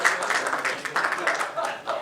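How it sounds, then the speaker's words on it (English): Audience applause in a hall at a jewellery industry event, a steady two-second wash of dense clapping at moderate level with no talk over it. "Can we have a round of applause,"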